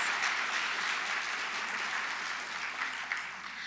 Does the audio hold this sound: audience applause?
yes